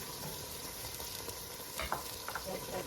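Garlic, ginger and green chili sizzle in a tadka with a little water added, giving a soft, continuous frying hiss with faint stirring clicks and a few brief bursts of crackle.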